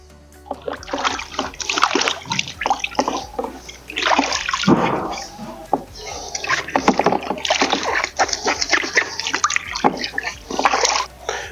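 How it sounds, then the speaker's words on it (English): An electric construction mixer spins its mixing paddle in a bucket of clean water, producing loud close churning and splashing in repeated bursts. "we can place the mixing paddle into the bucket of clean water and start the mixer"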